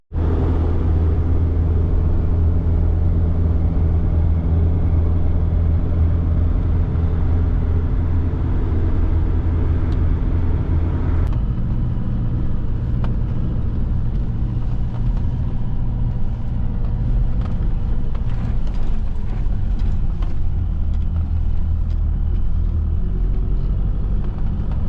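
A 4x4 Doka Sprinter T1N 313cdi camper van driving on a snowy mountain road, its diesel engine giving a loud, continuous rumble from inside the cab with a brief shift in tone midway.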